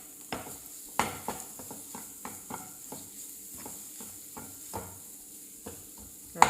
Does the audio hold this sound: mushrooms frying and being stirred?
yes